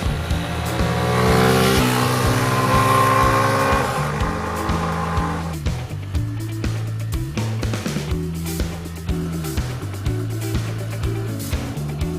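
A Keeway RK 125 motorcycle engine revs up and accelerates, then settles into a rhythm of rising and falling revs as it shifts through gears.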